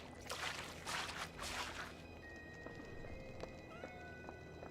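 A cat meows a few times in the video game Scanner Sombre, set in a cave, the cries faint against a low ambient background with some tonal game sounds after.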